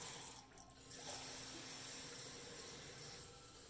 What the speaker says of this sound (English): In the Instant Pot, you're going to want to do 3 cups of water.